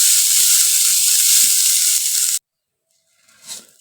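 Loud, close, steady sizzle of peas roasting dry in a pan for nimko, cut off abruptly into silence before a brief faint stir.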